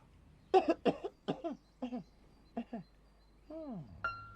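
A puppet character in a children's herb garden story gives a series of short, dry coughs in quick succession, fairly faint and close, ending with a drawn-out wheezy throat sound.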